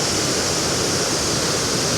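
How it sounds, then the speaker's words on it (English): Steady, loud roar of water tumbling over a limestone waterfall, a continuous full-bodied rush heard close with no pauses or voices. "I promised you a waterfall, folks, and that's what we've got."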